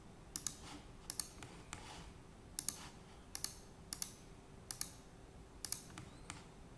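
Computer keyboard and mouse clicks while copying objects, as crisp double clicks in a steady, evenly spaced series, close and faint with no talk.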